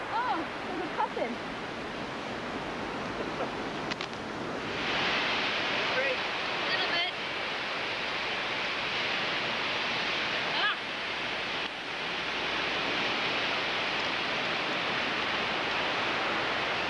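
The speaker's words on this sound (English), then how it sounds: "Can you hear those waves banging in on the rock?" Broadband rushing surf from waves washing against rock fills the scene steadily, with faint voices and gusts of wind over the roar.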